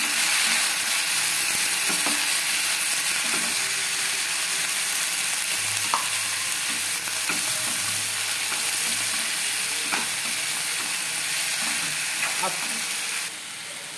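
Tomato pieces stirred in a frying pan for coriander tomato chutney, a steady close sizzle running throughout with occasional soft scraping clicks of the spoon, no voices.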